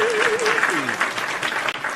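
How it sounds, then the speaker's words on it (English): Applause during a live wrestling watch-party show, a short burst of clapping with voices talking over it throughout. "Round of applause, chat"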